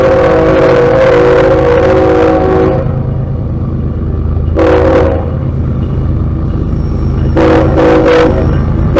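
A passing CSX freight train rumbles loudly and close, its horn sounding a long blast, then a brief toot, then a final burst of short toots over the steady roar of the rail cars.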